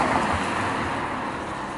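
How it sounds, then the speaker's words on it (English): Dense road traffic on a town street in Leigh-on-Sea, a continuous rumbling wash of passing vehicles, fairly loud and close, with no voices. "noisy traffic."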